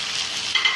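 Salt, chili powder and turmeric frying in hot oil in a pan for drumstick sambar, a steady soft sizzle with brief stirring scrapes near the end, close and alone without talk.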